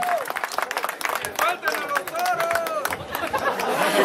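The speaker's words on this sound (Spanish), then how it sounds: "un aplauso para esta gente tan bonita" An audience at a motorcycle gathering in Tehuacán claps in a burst of applause mixed with cheers and crowd chatter, loud and close.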